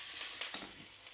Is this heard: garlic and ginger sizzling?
yes